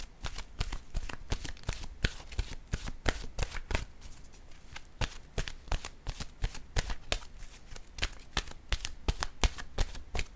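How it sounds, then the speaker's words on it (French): Oracle cards being shuffled by hand, a steady run of quick papery riffles and slaps repeating close up throughout with no voices. "je vais piger une carte de mon oracle de l'âme intuitive"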